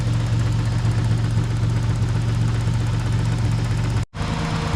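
A steady, low Hyundai car engine idle with a constant whirring cooling fan hum, unbroken apart from a brief dropout near the end.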